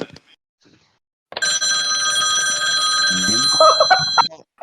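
After a brief silence, a telephone bell rings loudly and continuously for about three seconds during a live phone-in, with a short burst of voices near the end.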